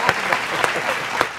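An audience at a comedy poetry show claps in a short, lively burst that fills the room for just over a second.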